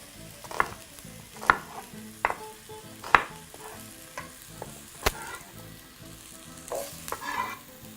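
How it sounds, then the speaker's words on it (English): Onion and vegetables sauté in a pot for a vegetable curry, a soft sizzle broken by several scraping stirs of a utensil at irregular intervals, close and moderately quiet, with no voices. "Right now, once all your ingredients are in there, proceed to saute together."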